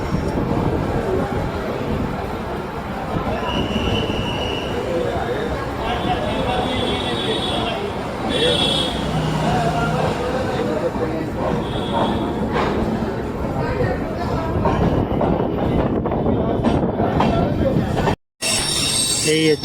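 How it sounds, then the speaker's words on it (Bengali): The Kolkata–Sairang Express rumbles steadily out of the station with wheels clattering and squealing on the rails, loud and continuous, with voices talking over it. "এই ট্রেন ছেড়ে দিলো পুরো টাইম। 12:25 এই ট্রেনটা ছেড়ে দিলো।"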